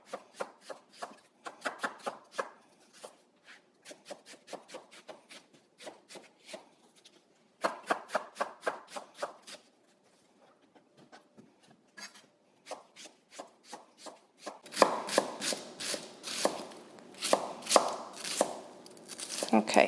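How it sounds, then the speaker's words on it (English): Onions are diced with a knife on a cutting board, rapid rhythmic chopping taps in quick bursts with short pauses, growing louder and denser toward the end, while a person talks over it. "I'm gonna dice the onions first"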